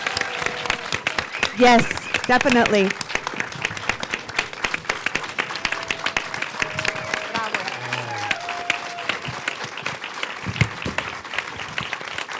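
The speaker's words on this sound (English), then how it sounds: "Let's give the leaders of GLU and our filmmakers a round of applause." Audience applause at a premiere screening panel for a documentary on Gay & Lesbian Latinos Unidos, steady dense clapping throughout with a few voices speaking and calling out over it.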